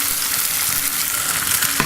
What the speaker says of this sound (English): that is your cue to toss your spaghetti in with the infused oil.